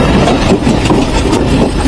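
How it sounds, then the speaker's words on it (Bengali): A passenger train rolls into Singia railway station in the evening, still moving, with a loud, steady rumble and rattle of wheels and cars close by. "এটি সিঙ্গিয়া রেলওয়ে স্টেশন আর এটি আমাদের ট্রেন, এখনো থামেনি।"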